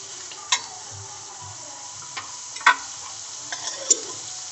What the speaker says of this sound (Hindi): इसे हम थोड़ी सी ब्राउन कर लेंगे प्याज को